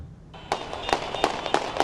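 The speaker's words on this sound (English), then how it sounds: "Celebratory gunfire rang out in Gaza City" Celebratory gunfire crackles in Gaza City, a handful of sharp, echoing bangs at uneven intervals heard from some distance against a quiet background.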